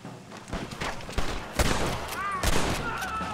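Gunfire in the video game Red Dead Redemption: several sharp shots and bursts over continuous noise from the game's action, fairly loud and close, with no clear speech.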